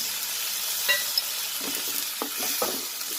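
Vegetables and tomato for aloo beetroot bhaji fry in a pan with a steady, close sizzle, broken by a few stirring clinks and scrapes, with no talking.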